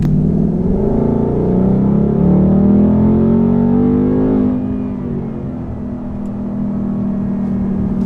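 A Ford Mustang GT with a 10-speed transmission accelerates hard onto a highway, its steady engine roar rising in pitch over several seconds before easing off into a lower cruising drone.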